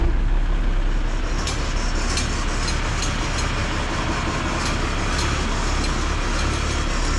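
A cold Nissan Patrol engine fitted with small exhaust flaps starts and idles, a loud, steady low rumble with rough repeating pulses and periodic sharp ticks throughout.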